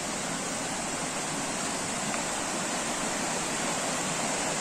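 Water from a hillside stream pours and rushes in a dense, constant roar near a bathing spot in Mecatán, Nayarit, loud and unbroken with no voices.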